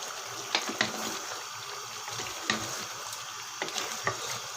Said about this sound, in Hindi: इसको भी अच्छी तरह से मिक्स कर लेंगे।